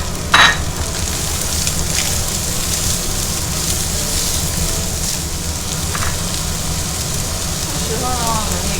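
Large scallions are stir-fried in a wok, giving a continuous sizzle and crackle with a few sharp clinks of a utensil. A voice talks over the frying.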